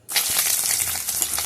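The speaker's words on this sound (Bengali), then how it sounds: "এবারে মাছগুলোকে আমি আবার উল্টে দিয়েছি।" Morola fish frying in a pan after being turned, a loud, continuous close sizzle that starts abruptly and holds steady with small crackling bursts.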